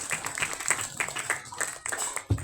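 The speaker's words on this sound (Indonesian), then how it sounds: "Tepuk tangan jeung Karang Taruna." Audience at a Sundanese Maulid Nabi gathering claps for Karang Taruna, a rapid, regular run of hand claps at moderate volume with a faint tone hanging in the background.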